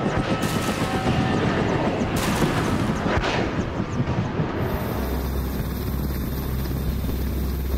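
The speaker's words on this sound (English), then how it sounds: "a 15-ton helicopter hovering above the deck of a warship at sea" A 15-ton helicopter hovers above the deck of a warship at sea, its broadband rotor and engine roar loud and continuous, with a steady deep rumble and no voices.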